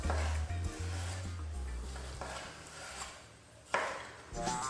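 A sharp knife works through chicken on a board, a few distinct chopping thuds and knocks under a low kitchen hum, with a louder sharp impact near the end.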